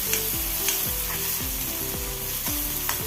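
Chopped tomato sizzles loudly in a hot frying pan with a jackfruit seed stir-fry, and a spatula scrapes through it in steady repeated strokes over a constant crackle.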